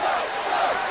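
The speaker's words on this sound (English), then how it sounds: "Suddenly, the crowd starts to roar." Marathon crowd roaring and cheering for runners along a road, a dense, steady wall of many voices close and loud throughout, with no lulls.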